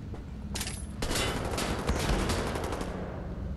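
Rapid gunfire rattles out in Wolfenstein: The New Order, a fast burst of close, loud shots in a dense automatic volley that continues for a few seconds over a rumbling background.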